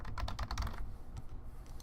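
Quick bursts of typing on a computer keyboard, a rapid run of close key clicks that slows into a few scattered taps under a faint room hum.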